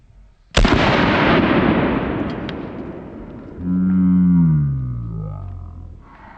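An HK P2A1 flare gun fires a .410 shotgun shell in one loud, sharp blast that rings out and decays over several seconds. A low droning tone rises partway through the fading echo, and no one speaks.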